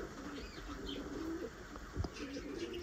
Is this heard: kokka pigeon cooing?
yes